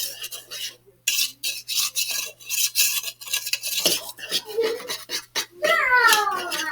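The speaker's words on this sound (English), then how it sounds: "Stirring, stirring, stirring." Kool-Aid playdough mixture being stirred in a bowl, giving scraping, clinking strokes in uneven bursts, fairly loud and close, with a short gap early on and a brighter scrape near the end.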